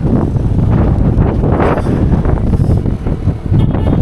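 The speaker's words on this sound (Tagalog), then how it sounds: "Tingnan nyo, masyadong malakas yung hangin." Strong wind in Cebu roars and buffets the microphone continuously, a loud, rumbling gusty rush with no voices.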